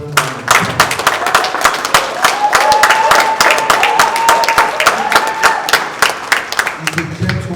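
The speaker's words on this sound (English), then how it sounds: "I want you all to give him a beautiful and a resounding round of applause." A conference crowd at an annual general meeting gives a loud, sustained round of applause, individual claps sharp and close, while a sustained tone hums underneath.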